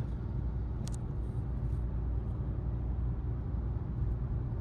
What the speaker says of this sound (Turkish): Ve devir yükseldi. Araç hızlandı.